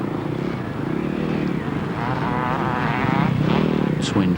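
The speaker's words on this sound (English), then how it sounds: "Number 16, Steve Mitten, struggling round on that old Husqvarna" An old twin-shock Husqvarna scramble bike races on a muddy 1999 scramble course, its buzzing engine wavering up and down at moderate distance beneath a commentator's voice.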